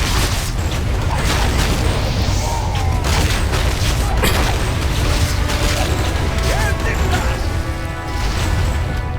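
Mortar fire in a Warcraft 3 battle: a steady barrage of booms and crashing impacts mixed with mechanical clatter, loud and continuous throughout, with game effects layered on top.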